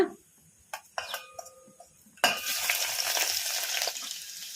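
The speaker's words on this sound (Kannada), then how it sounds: "ಸಾಸಿವೆ ಜೀರಿಗೆ ಚಟ್ಪಟ ಅಂದಿದಾವಲ್ಲ ಈಗ ಇದಕ್ಕೆ ಬೆಳ್ಳುಳ್ಳಿ ಹಾಕೋಣ" Garlic dropped into a mustard and cumin seed tempering bursts into a loud, close sizzle after a few clicks and taps of a spoon, then keeps frying in a steady crackle with no talking.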